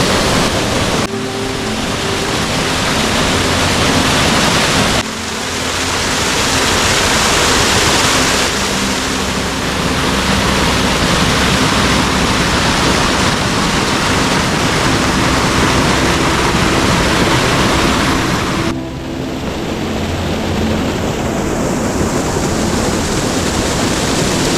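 Water pours over the weir on the Turón river near Málaga, a loud, steady roaring rush that fills the scene from start to finish without pause, with no voices over it.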